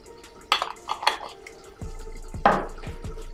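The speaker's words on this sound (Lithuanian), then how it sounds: "Dabar omutį eisim statyti virt makaronus." Handling a pot to boil water for ziti pasta: a few close metallic clanks and scrapes of cookware, with soft thuds between them; no talking.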